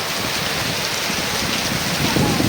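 Heavy downpour in Umrala, a dense, loud, unbroken hiss of rain drumming on surfaces close by, steady throughout.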